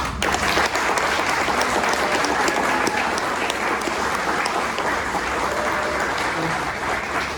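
An audience at an awards ceremony applauds steadily, a dense, sustained wash of clapping from a crowd that holds for several seconds without letting up.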